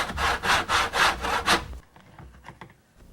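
A hand saw cuts a pipe for a drain installation with six steady, loud back-and-forth strokes, then stops and gives way to a few faint knocks and handling sounds, with no talking.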